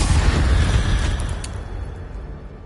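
An Incendio fire spell blast in a Harry Potter video game, a loud rumbling burst that slowly fades away over a couple of seconds, with no voices.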